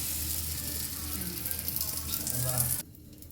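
Egg-dipped brown bread sizzles steadily on a hot tawa, a close, continuous frying hiss that stops abruptly near the end.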